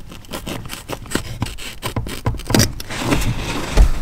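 Carpet from a BMW E30 cabin floor being cut, a run of rough scraping, tearing strokes at close range with irregular rhythm, no talking.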